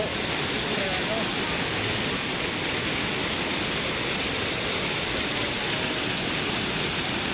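A waterfall roars at Antong Falls while people wade across, its dense rushing noise steady and loud from start to end, with voices talking faintly under it.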